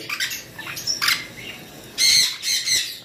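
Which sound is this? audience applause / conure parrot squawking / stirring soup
conure parrot squawking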